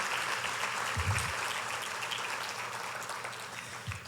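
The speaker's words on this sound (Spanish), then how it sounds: "Un aplauso para ustedes, mujeres que son fuertes" Applause from a church congregation, a fairly faint and distant wash of clapping that holds steady for several seconds before easing off, with a few low thumps.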